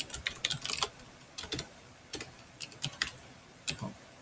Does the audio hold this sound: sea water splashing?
no